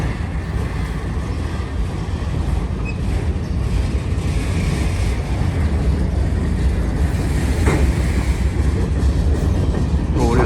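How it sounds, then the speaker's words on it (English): A CSX freight train hauled by a single locomotive rolls past close by with its string of box cars, a steady loud rumble with faint rail clatter and no pauses throughout. "This is actually a pretty good train for just one locomotive."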